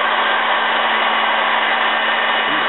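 Heat gun blowing air at about 570 degrees while heating plastic to shape a VW 914 fuse cover; a steady, loud, broadband whoosh runs unbroken throughout with a constant motor hum underneath, close and alone with no voices.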